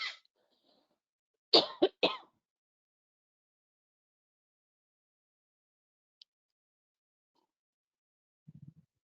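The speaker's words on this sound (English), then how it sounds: "had a bit of a cough there" A woman coughs during an online professional training session on boundaries and difficult conversations, one short cough followed by a quick cluster of three harsher coughs, close and clear against silence, with a faint low murmur at the end.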